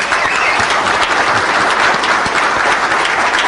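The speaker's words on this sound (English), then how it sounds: "please stand up and take a round of applause." Audience applause at a conference keynote for two honored team members, a steady, full round of many hands clapping at an even volume from start to finish.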